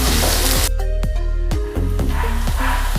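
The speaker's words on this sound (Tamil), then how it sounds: "எல்லாத்தையும் சேர்த்துட்டு ஒரு 2 நிமிஷம் நல்லா வதக்கி விட்டுக்கலாம்." Onion and green chillies sautéing in a pan over medium flame, a loud, close, steady sizzle broken by several sharp scraping stirs.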